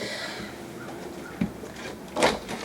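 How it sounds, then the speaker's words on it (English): A pocket door in the bathroom of a 2013 Winnebago motorhome slides briefly, a short soft scrape followed by a louder rolling swish near the end, heard close up in a quiet interior. "Really nice pocket door that'll allow you some privacy here."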